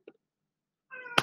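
A pet cat gives a single close, drawn-out meow ending in a sharp accented peak, after a tiny soft sound and a long stretch of silence.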